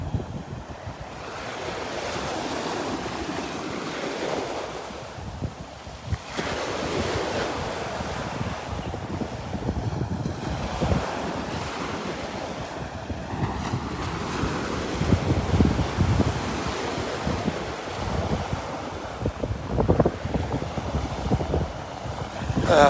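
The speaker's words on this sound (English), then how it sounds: "that wind just feels so good" Steady wind buffets the microphone over rolling Gulf surf on Vanderbilt Beach, a continuous loud rush with waves breaking close by and swelling in repeated surges, with no voices.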